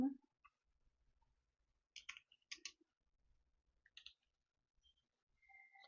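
A few soft computer mouse clicks sound close and quiet, scattered sparsely against near silence as a search bar is selected.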